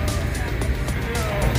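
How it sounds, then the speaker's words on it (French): Cars roll into a shopping-centre car park for an American car show in Crécy-la-Chapelle, a dense steady engine rumble with passing vehicles close by, blended with background voices. "des voitures qui arrivent à tout moment"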